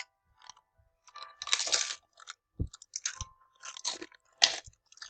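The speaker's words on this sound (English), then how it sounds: "we're eating Doritos" Doritos tortilla chips being chewed close to the mic, with several loud crunchy bites in irregular bursts and short quiet gaps between them.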